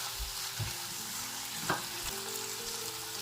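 Lightly boiled potatoes sautéing in a pan give a soft, even sizzle throughout, with a couple of low knocks and one brief clink of stirring, faint and close, no voices.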